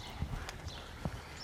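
Hooves of a harnessed mare clip-clopping during a carriage-driving lesson, a few distinct, separate hoof strikes at moderate distance against quiet outdoor background.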